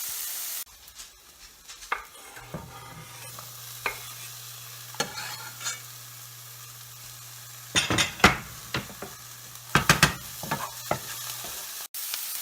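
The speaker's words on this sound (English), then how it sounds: "You're just gonna keep stirring this around until they're nice and translucent and it's sweat out a bit" Onions sweating in a pan are stirred with a utensil, giving soft scraping strokes and occasional clatters over a low steady hum, with a few louder clanks near the end.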